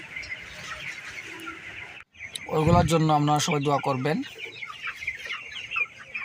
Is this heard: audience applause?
no